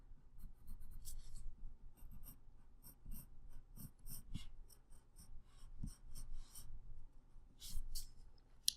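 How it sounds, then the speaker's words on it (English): A dark pencil sketches a mountain outline on paper, with soft close scratching strokes in short uneven bursts, quiet and without talk. "I just want to draw out the outline of my mountain."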